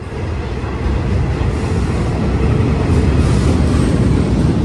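A New York subway A train rumbles past close by, a loud continuous roar of wheels and motors that swells slightly and holds steady throughout.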